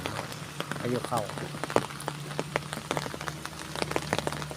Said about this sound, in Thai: มาถ่ายทำเหตุการณ์ฝนตกที่บ้านโคกศาสตร์ตะวันตาล